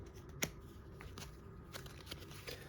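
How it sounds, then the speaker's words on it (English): Cards from a small deck shuffled at a tabletop during a solo Lord of the Rings: Journeys in Middle-earth board game session, a few quiet riffles and snaps over a soft room background. "there's a lot of shuffling in this game"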